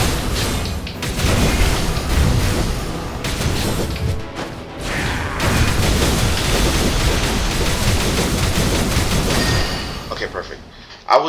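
A large jumping explosion attack in Skul The Hero Slayer game, heard as repeated heavy booms and crashing bursts rolling through several seconds, loud and dense, with voices talking over the action.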